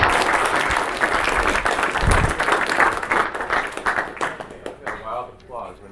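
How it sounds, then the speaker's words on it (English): Loud audience applause fills the room after a university lecture on Lasso statistical algorithms, steady dense clapping that thins toward the end into a few scattered claps. "Wild applause"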